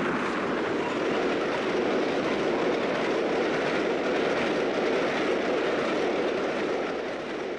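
LNER steam locomotive 60523 Sun Castle, one of fifteen built new, runs past with a steady loud roar of train noise and rail clatter that holds unbroken throughout, with no voices.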